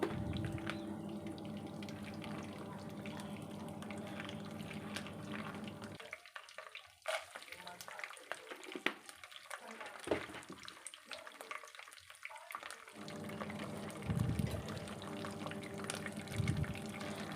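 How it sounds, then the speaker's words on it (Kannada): Peanuts tipped into a pan of dry red chillies and curry leaves frying in oil, for bisi bele bath, with a steady close sizzle that drops and turns patchy midway, no voices. "ಒಣಮೆಣಸಿನ್ಕಾಯಿ ಮತ್ತು ಕರಿಬೇವು ಚೆನ್ನಾಗಿ ಫ್ರೈ ಆದಮೇಲೆ ಇದಕ್ಕೆ ಶೇಂಗಾ ಬೀಜ ಹಾಕೋತಾ ಇದ್ದೀನಿ"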